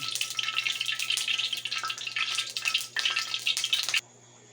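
Oil in a hot wok (kawali) sizzles loudly and steadily, close up, for about four seconds before cutting off abruptly into near silence.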